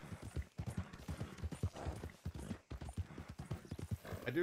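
Horse hoofbeats clip-clop at a steady riding rhythm in Red Dead Redemption 2, with occasional snorts and a whinny near the end, dense and close throughout.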